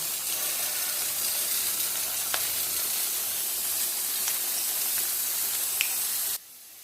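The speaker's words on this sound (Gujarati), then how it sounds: "હવે આમાં આપણે તળશું" Pieces of patra, rolled colocasia leaf snacks, fry in hot oil with a steady close hiss and faint crackles, then the sound cuts off abruptly near the end.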